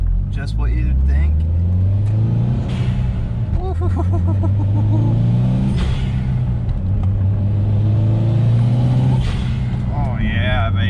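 A 2006 Mitsubishi Evo 9 MR accelerates on a ride-along, the engine droning loud and close from inside the cabin, pitch rising and dropping across gear changes while people talk and exclaim over it.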